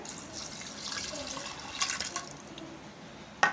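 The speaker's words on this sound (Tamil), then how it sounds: "இப்போ இந்த ராஜ்மா ஊர்ன தண்ணியவே நான் இதில் சேர்த்துக்க போகிறேன்" Rajma soaking water is poured into a pressure cooker, a steady close trickling and splashing of liquid into the pot, ending with a brief metallic clink.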